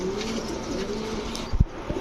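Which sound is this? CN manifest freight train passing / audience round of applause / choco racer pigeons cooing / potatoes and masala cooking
choco racer pigeons cooing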